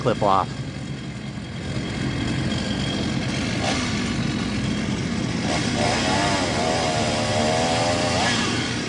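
A chainsaw engine drones steadily at close range, its pitch rising and falling as the throttle changes, with voices talking briefly underneath.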